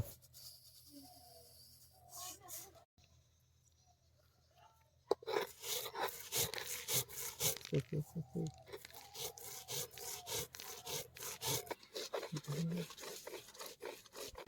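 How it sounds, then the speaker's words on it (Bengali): Mustard seeds are ground on a grinding stone in close, rhythmic rubbing and scraping strokes, crunchy and gritty, that begin after a few quiet seconds and continue steadily to the end. "আমরা এখন প্রথমে সর্ষেগুলো বেটে নেব"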